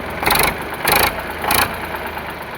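An Eicher 368 diesel tractor engine idles nearby with a steady chug, broken by three short louder surges in quick succession before settling back to idle.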